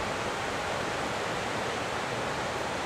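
The flooding Big Thompson River in Loveland, Colorado surges past in a dense, unbroken roar of rushing water, close and steady, with no one speaking.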